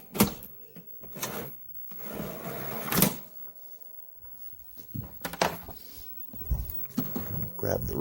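A CED videodisc caddy is loaded into a Hitachi player, giving scattered plastic clunks, slides and clicks between stretches of someone talking.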